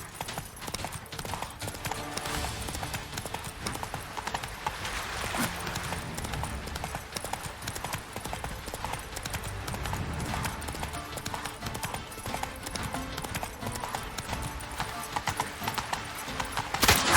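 Hooves of a horse galloping in The Witcher 3 video game, a steady rapid clip-clop running throughout at even loudness, with faint game ambience and an occasional whinny.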